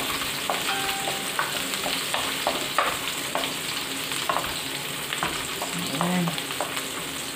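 Garlic and ginger sauté in a pan with a steady, close sizzle, broken by frequent clicks and scrapes of a utensil stirring; a voice briefly says a single word.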